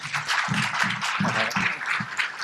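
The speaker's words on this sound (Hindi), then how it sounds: "कृपया उनके लिए भी ताली बजाएंगे।" Applause from an audience welcoming the director of an organic farming centre at an inauguration ceremony, steady continuous clapping with no voices over it.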